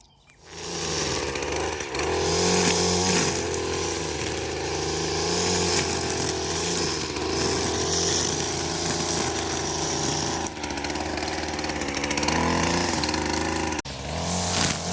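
Motorised cutting tool, a chainsaw or weed eater, hacking overgrown muscadine vines off an abandoned greenhouse; a loud continuous engine drone runs nearly the whole time with brief dips in pitch and load, close by, no talk.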